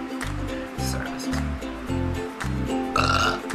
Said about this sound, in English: Why do I keep burping?